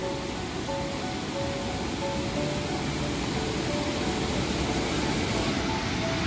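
A mountain stream on the trail between Dwali and Furkiya toward Pindari Glacier, rushing loudly and continuously as a dense, steady roar of flowing water close to the microphone.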